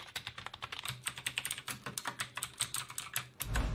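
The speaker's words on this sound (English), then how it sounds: "This is a classic keyboard, conceived to be rather quiet. Each keystroke produces a soft sound." Rapid, soft keystrokes tapping away on a quiet non-mechanical KLIM Chroma keyboard, close up, in an uneven rhythm with a duller thump at the end.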